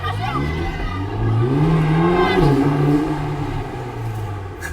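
A modified Ferrari Portofino engine revs up and holds a loud, throaty drone before easing back, close by, with people talking around it.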